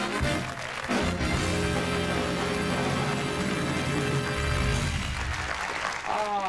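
Studio audience at a Dancing with the Stars broadcast applauding over the live band, sustained clapping blended with music for several seconds before tapering off.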